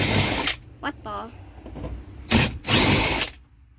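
A power drill boring into the seat mount of a 1965 Chevrolet Nova runs in several loud, close bursts of whining buzz, broken by short pauses, a voice and small mechanical clicks.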